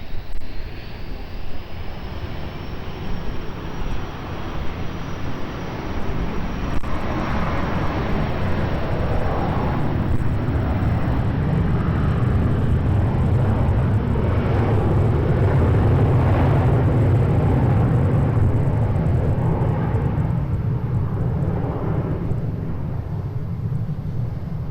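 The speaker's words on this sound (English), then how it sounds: "Cleared for takeoff, runway 20" Fixed-wing airliner taking off from runway 20 at Lisbon Airport, a loud sustained jet engine roar building and rumbling continuously with a deep low drone, no talk.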